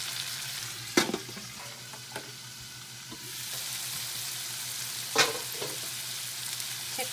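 Prawns and seafood steaming in a covered pan for sotanghon, a soft steady sizzle with a couple of sharp clanks and knocks.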